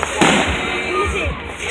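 Fireworks in an outdoor display, one sharp loud boom followed by rumbling crackle and softer distant pops, with people talking underneath.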